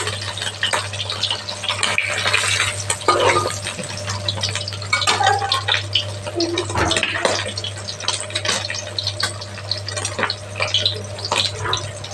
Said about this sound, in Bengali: এভাবে আমি একটা একটা করে ভেজে নিচ্ছি।